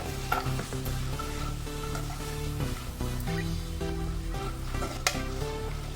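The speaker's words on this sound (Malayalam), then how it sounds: "അതിലേക്ക് എടുത്തു വച്ചിരിക്കുന്ന കാഷ്യൂ നട്ട്സ് ചെറിയ പീസാക്കിയിട്ട് ഇട്ട് കൊടുക്കാം" Small pieces of cashew nut fry in ghee for jackfruit halwa, a close, busy sizzle with repeated scraping and stirring strokes against the pan and a few sharper clinks, no one talking.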